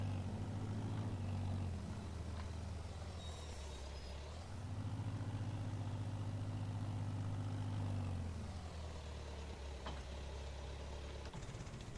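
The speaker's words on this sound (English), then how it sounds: "Let's get this tractor also parked over here." Video game tractor engine idling low and steady, rising briefly in pitch as it moves, then settling back to a constant rumble; fairly quiet and even.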